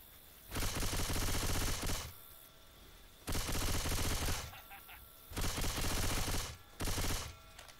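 Bursts of rapid automatic gunfire from the Left 4 Dead 2 video game come loud and close in four long volleys, separated by brief pauses.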